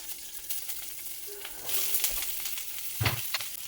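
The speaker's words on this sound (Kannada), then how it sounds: "ಇವಾಗ ಹಚ್ಚಿಟ್ಕೊಂಡಿರೋಂಥ ಈರುಳ್ಳಿನ ಹಾಕ್ತಾಯಿದ್ದೇನೆ" Chopped onions going into hot coconut oil and frying, a steady sizzle that swells halfway through, with stirring scrapes and a sharp clatter near the end, no voices.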